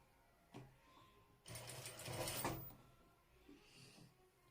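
Sewing machine attaching ruffles along the hemline of a baby dress: a faint click, then a brief mechanical whirring run of about a second, followed by quiet handling sounds and small clicks.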